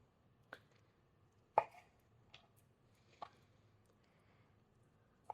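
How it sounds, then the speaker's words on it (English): A knife cuts protein into bite-sized pieces on a board for a quick Boursin pesto pasta, four or five sharp, well-spaced chops heard up close against a quiet kitchen. "I'm just going to cut these into bite-sized pieces"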